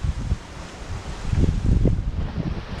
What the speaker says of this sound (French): Il y a 21 nœuds de vent.